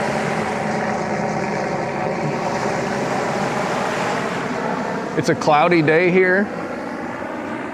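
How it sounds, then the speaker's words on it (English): A helicopter passes over a beach on a cloudy day, a steady broad drone with a rhythmic thrum throughout, while someone speaks briefly over it near the end. "That's a helicopter"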